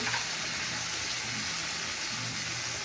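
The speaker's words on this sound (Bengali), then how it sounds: "এগুলো একটা জল দিয়ে দিচ্ছি, বুঝলি?" Water splashed into a hot pan of fried flour, garlic and onion, giving a steady, close broadband sizzle that holds evenly throughout with no voices.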